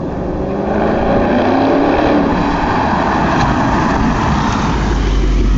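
A 2012 Ford Mustang GT 5.0 fitted with a Borla Atak exhaust roars past close by, a loud, steady broadband engine and exhaust rumble holding through the whole stretch with no talking.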